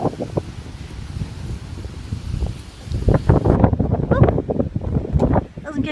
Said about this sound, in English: Oh, doesn't keep us out the wind.